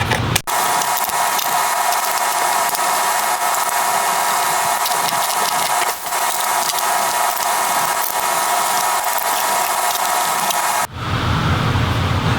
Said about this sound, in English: we're going to remove all of these T6 Torx screws